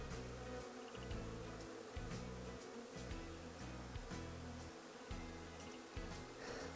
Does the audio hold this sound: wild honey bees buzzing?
yes